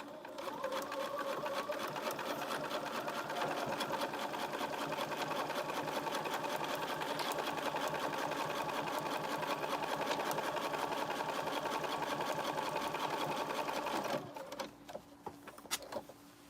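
A sewing machine top stitches a zipper pencil case, running steadily and close for about fourteen seconds in a fast, even whirring patter, then stopping, with faint bumps at the end.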